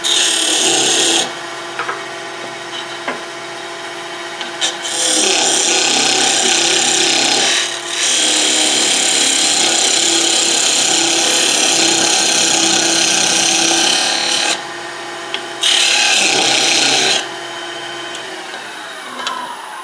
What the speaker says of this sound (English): we can turn this side down with a parting tool